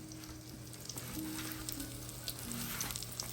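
Breaded chicken fries in oil in a pan for a home chicken dinner, giving a constant crackling sizzle with scattered sharp pops and a faint low hum in the background.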